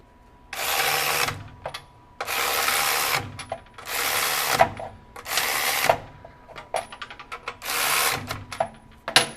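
An EastVolt 12V cordless 3/8-inch electric ratchet spins in five loud, close bursts of roughly a second each, separated by short pauses and a few quick clicks and blips.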